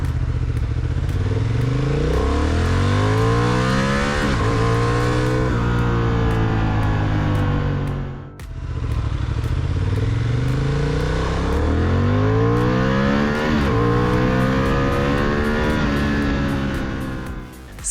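A Honda CB750 Hornet motorcycle engine revs hard through rising gear after gear, loud and close, with a brief pause before accelerating again.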